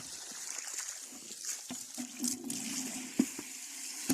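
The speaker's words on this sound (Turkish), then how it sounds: "Su taştı." Water from a hose spills over and splashes around a newly planted tree in a village garden, a close trickling and gurgling stream with scattered splashes and drips.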